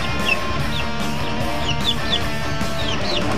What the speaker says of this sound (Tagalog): Yan ang ating mga sisiw.